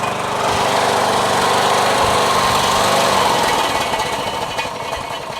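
A Briggs & Stratton engine on a lawn tractor being readied for spring runs at a steady, loud idle close by, holding an even drone before easing slightly near the end.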